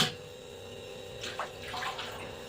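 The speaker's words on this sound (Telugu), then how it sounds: "రెండు గ్లాసుల వాటర్ అయితే పోస్తున్నాను" Two glasses of water pour into a pan in a village home kitchen before salt and flour go in, a faint splashing trickle rising in the second half over low room hum.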